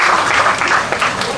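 An audience claps at a KL Ceria 2022 live band show after a keyboard player, Afiq, is introduced. The clapping is loud and close and runs steadily through the short stretch with no one talking.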